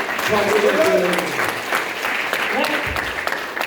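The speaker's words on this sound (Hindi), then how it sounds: "इसलिए जोरदार ताली होना चाहिए" An audience at a workshop in Lonavala applauds, a short burst of clapping heard under and alongside a voice speaking loudly nearby.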